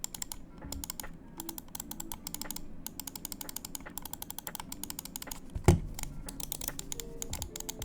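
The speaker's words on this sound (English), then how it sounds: "Side clicks are also spammable with no pre and post travel" Side buttons of an EWEADN S9 Ultra gaming mouse clicked rapidly, a dense stream of crisp, light plastic clicks close up, with one louder knock partway through.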